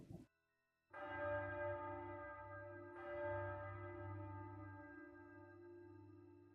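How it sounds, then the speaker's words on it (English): A deep church bell in the game Triangle Strategy tolls at midnight at Ironstone, two long resonant strikes about two seconds apart, each ringing out with a slow, humming decay and no voices. "That's the bell at Ironstone."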